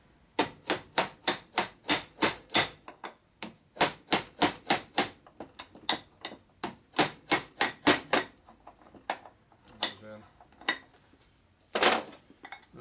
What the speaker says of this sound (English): You want to make sure the shaft is in tight the bushing before you beat on it.